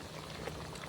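Pork igado simmering in a pot after a little water is added, with a steady close bubbling and sizzling that runs without pause and no voices.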